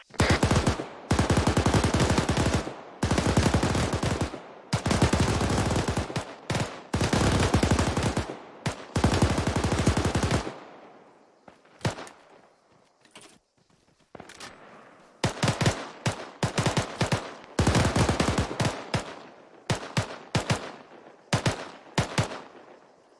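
Machine guns fire in Arma squad training, with long sustained bursts and clusters of rapid shots. There is a quiet gap of scattered single shots, then more heavy bursts, all loud and close.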